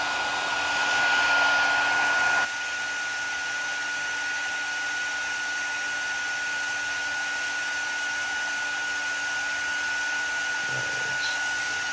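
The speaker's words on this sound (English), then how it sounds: "Oh, it's picking up my heat gun" A heat gun blows steadily to dry splattered ink on a handmade foiled pumpkin spice card, a continuous whooshing hiss that grows louder for the first couple of seconds, then settles slightly quieter and carries on evenly to the end.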